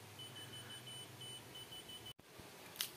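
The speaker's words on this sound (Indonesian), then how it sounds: "key finder ini atau alarm kunci ini" A key finder alarm attached to a set of keys gives faint, repeated high-pitched beeps in a steady pattern, broken near the end by a brief dropout and a clatter.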